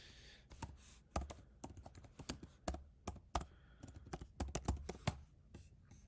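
Typing on a computer keyboard: irregular bursts of sharp key clicks, close and fairly quiet, with brief pauses between runs of keystrokes.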